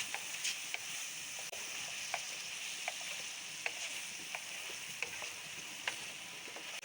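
Chicken frying in a kadai for tawa chicken kadai, with a continuous close sizzle and sharp clicks and scrapes as it is stirred.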